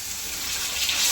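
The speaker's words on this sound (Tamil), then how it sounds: "மீன் வறுத்துட்ருக்கோம்." Fish frying in a pan at home for a Sunday lunch, a steady close hiss and crackle of hot oil that holds even and continuous throughout, with no voices over it.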